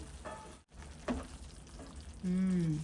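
Dry drumstick bhaji sizzles and crackles softly in a pan once the lid comes off. The frying rises to a brighter, stronger sizzle near the end, with someone talking quietly over part of it.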